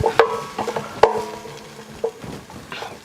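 Sweet potato fries get turned in an air fryer basket, giving a few sharp clinks and scrapes from a utensil over a quiet background.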